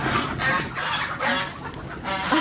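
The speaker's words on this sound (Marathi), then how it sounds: "हे माझ्या कोंबड्या आता आल्या धावत" Hens clucking and squawking as they run toward food, a close, busy flurry of overlapping calls in short bursts with a hoarse, noisy edge.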